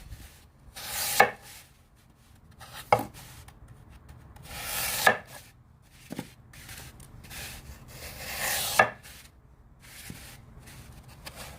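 A knife cutting through material for a preserved rose and flower box arrangement, several separate scraping strokes with sharp taps, spaced a second or two apart, close with no talk.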